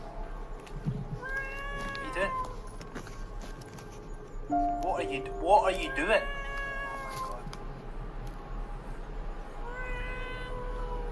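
A cat inside a bag meows repeatedly, three drawn-out calls spaced apart, while a voice speaks briefly between them.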